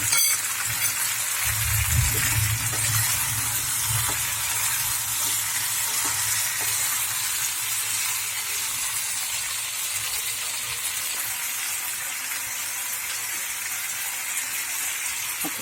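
Potato curry for a Bengali aloo dum without onion or garlic, sautéing in a pan with a little sugar, a continuous bright sizzle with occasional stirring scrapes, loud and close.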